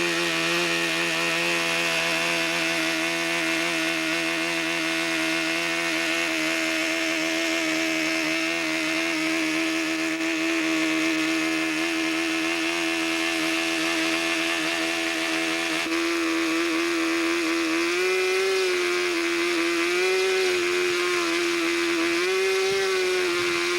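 A model airplane engine fitted with a tuned pipe and rear needle valve, likely a Master 440 B 25, runs steadily at a high, buzzing pitch with no pauses, its tone rising slightly near the end.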